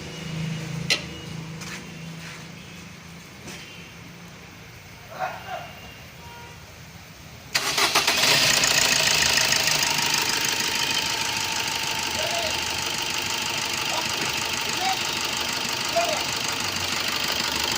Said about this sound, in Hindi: गाड़ी को भी स्टार्ट करते हैं